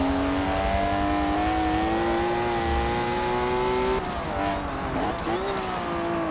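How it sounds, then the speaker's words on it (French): BMW M2 in Forza Motorsport 7, a steady loud engine whine that breaks into abrupt rev blips and stumbling pitch as it downshifts two gears too quickly under hard braking. "Rétrogradé de 2 vitesses trop vite, la voiture elle a pas trop aimé."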